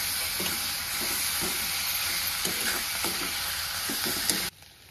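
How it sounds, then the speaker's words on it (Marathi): Ridge gourd chutney with salt and finely chopped coriander is stirred in a hot pan, giving a steady sizzle with soft, repeated scraping strokes that stops abruptly at the end. "आता पूर्ण मिक्स करून घ्यायचं."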